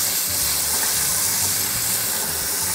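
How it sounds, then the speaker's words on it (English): Steady rushing wash of water over rice grains, continuous and fairly loud with a broad hiss and low churning, no voices over it. "what you want to do is you want to rinse your rice, get that starch out of there"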